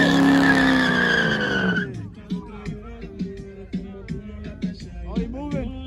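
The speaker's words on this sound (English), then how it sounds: "Do burnout. Burnout." A car does a burnout at a Chicago street takeover, its tires squealing loudly over a revving engine for about two seconds, then fading under shouting voices and a lower engine rumble.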